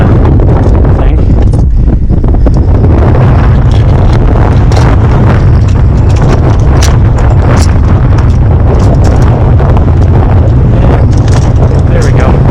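Strong wind buffets a microphone on a rooftop during a Starlink dish installation, a loud continuous roar and rumble. A person talks intermittently under the gusts.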